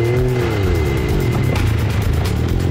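A 4WD vehicle with a lever-switched transfer case descends into a tight dirt bowl and spins around, its engine droning and revving close by at a steady, loud level, with no voices.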